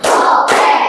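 A group of people clapping together in a counted classroom clap chant, two loud, sharp unison claps in under a second.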